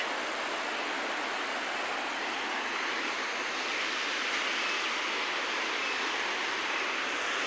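Steady broadband rushing of river water flowing beneath a long, old bridge, a constant close wash of noise with no pauses or voices.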